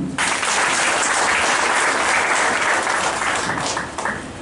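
A room full of people claps in sustained, dense applause that swells quickly, holds steady, then tapers off near the end.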